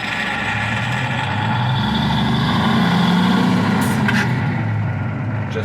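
A 1980 Kenworth truck, parked for 20 years, runs with a loud, steady low diesel rumble and engine drone throughout, close by and with no talk.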